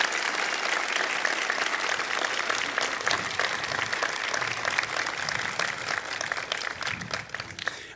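A warm, sustained round of applause from a large convocation ceremony audience, dense and continuous clapping throughout with no speech over it.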